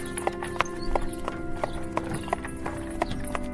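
A horse with rider clip-clops along at a steady walking pace, evenly spaced hoof strikes close by over a constant background hum.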